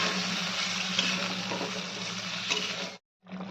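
Ground poppy seed paste with green chillies and a splash of water fries in a pan, a close, steady sizzle and bubbling that cuts out briefly near the end before resuming.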